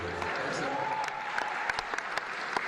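An audience at a live show applauds steadily, a dense wash of clapping with scattered sharper claps standing out, under a faint voice.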